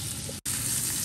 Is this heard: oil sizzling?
yes